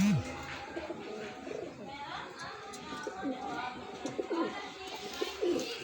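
Pigeons, including a breeding female, coo in repeated soft low calls while someone talks over them nearby, with faint chatter in the background.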